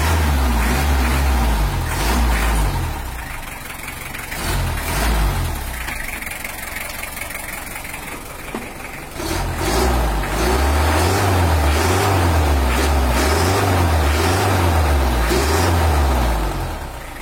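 Diesel engine of a Toyota Hiace LH-11 with a 12 mm injection pump, revved several times in repeated rising and falling surges between stretches of steady idle, loud and close, no talking.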